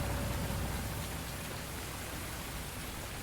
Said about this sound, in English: we'll jump out in the rain.